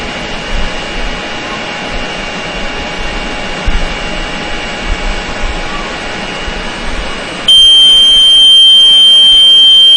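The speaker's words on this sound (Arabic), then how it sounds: "هيحصل انذار" A steady electronic alarm buzzer tone from a BGA rework station, warning of overheating at 238 degrees, runs over a constant background hum, growing louder and more piercing near the end.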